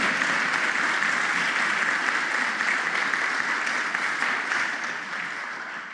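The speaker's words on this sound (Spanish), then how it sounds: "¿Cuántos pueden darle un aplauso al Señor?" Dense, sustained applause fills a church congregation, a steady wash of many hands clapping at once with no talk over it, fading slightly toward the end.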